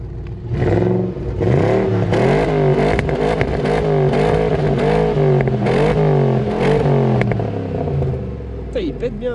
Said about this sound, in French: Petite accélération.